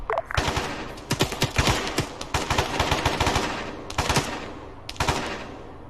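Rapid bursts of machine gun fire in a combat mission, loud and close, with staccato volleys repeating through the stretch and a brief pause before a final burst.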